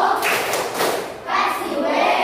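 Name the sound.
schoolchildren clapping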